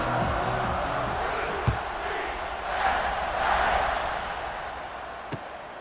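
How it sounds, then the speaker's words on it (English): Stadium crowd at a college football game between UNC and UCF: a steady, broad roar that swells and fades, with a couple of sharp thumps rising briefly above it. "You think this crowd's going to get loud when their defense comes on the field?"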